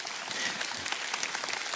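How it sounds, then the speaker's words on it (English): A church congregation claps together, a short burst of steady, fairly faint applause. "Let's give God a clap offering."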